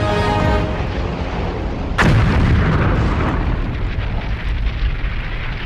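A single loud explosion booms close by as aircraft bombs strike tankers and warehouses, followed by a long rumbling roar that slowly fades.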